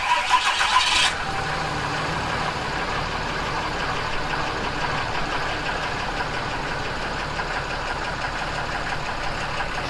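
A 2014 Cummins diesel in a Ram MegaCab pickup cranks for about a second, catches, and settles into a steady, loud diesel idle with a knocking clatter that continues alone to the end.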